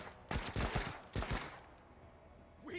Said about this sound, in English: I can try to burst fire these guys.